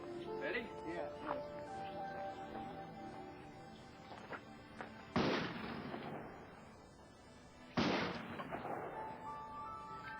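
A shotgun chambered for 2 3/4-inch shells fires at outdoor targets: two sharp, loud blasts about two and a half seconds apart, each with a ringing tail, preceded by softer handling clicks and thumps.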